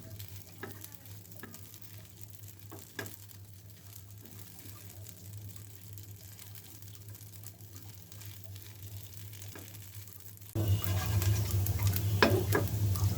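Pasta is stirred in a pan with roasted dried chili powder, starting with quiet scattered scrapes and clicks before a much louder, close frying sizzle with stirring takes over.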